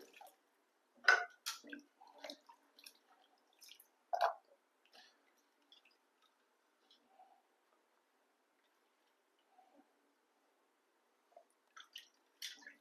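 Ginger being rinsed by hand in a bowl of water for a sweet ginger halwa: soft, scattered drips and wet squishes, clustered early and then thinning to occasional faint splashes in a quiet kitchen.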